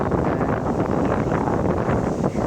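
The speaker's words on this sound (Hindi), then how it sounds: "बहुत ठंडी हवा चल रही है," Cold wind gusts steadily across the microphone on Puducherry beach, a loud, unbroken roar with no pauses and no voices.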